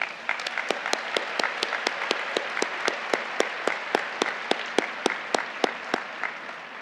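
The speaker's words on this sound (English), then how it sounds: "Please join me in a round of applause for our deans." Audience applause at a university spring commencement, a steady round of clapping with sharp, regular claps standing out near the microphone over a broad wash from the crowd.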